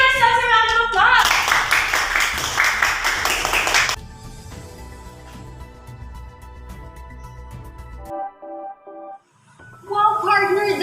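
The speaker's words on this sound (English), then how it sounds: "Give ourselves a round of applause." Students in a classroom clap together in a short burst of applause lasting a few seconds, loud and close, with voices and speech before and after.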